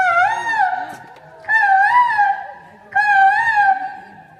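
A voice imitates a cuckoo calling from a tree with three long, clear, whistle-like calls that rise and waver, loud and close, with short gaps between them.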